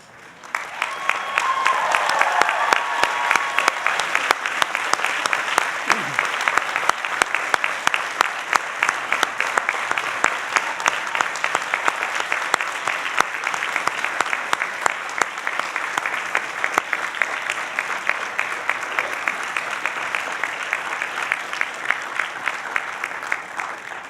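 Doctoral candidates at a Columbia University PhD graduation ceremony rise and applaud their friends and family, a dense, sustained wave of clapping from a big hall that holds steady for more than twenty seconds.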